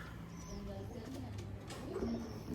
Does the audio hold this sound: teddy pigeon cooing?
yes